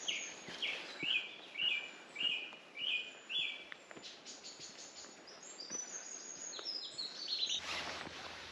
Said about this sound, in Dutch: Hoor je de vogels.